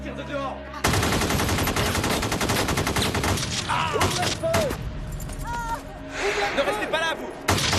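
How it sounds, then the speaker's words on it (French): Heavy gunfire erupting outside a bank: rapid, loud bursts of shots and impacts, with shouting voices and other sounds over and between them. "Ça tire de dehors."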